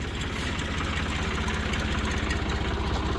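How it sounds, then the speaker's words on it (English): A tractor engine runs in a steady, rumbling idle close by, a continuous low throbbing drone while the tractor is brought around to push a dump bed forward on a square body crane truck. "We'll just bring the tractor around and just push it forward."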